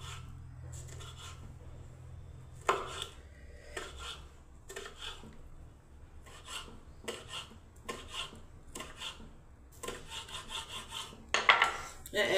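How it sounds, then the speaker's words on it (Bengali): A knife chops a tomato into small pieces on a board, giving a run of short, separate taps and scrapes at a steady, uneven pace, close and fairly quiet over a low background hum. "টমেটোটা ছোট্ট ছোট্ট একদম টুকরো করে কেটে নিচ্ছি"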